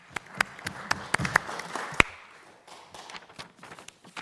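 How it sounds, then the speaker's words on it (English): Scattered, uneven clapping from a small group at a Historic Preservation Commission meeting, with distinct individual claps standing out before it thins into a few faint, sparse hand claps. "Round of applause."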